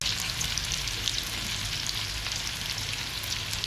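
Onion and garlic sizzle steadily in a hot oiled pan while pechay with tofu is being cooked, a continuous dense frying crackle with no talking.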